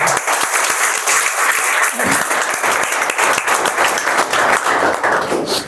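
Steady, loud applause from a seminar audience fills the whole stretch, dense clapping continuing without pause.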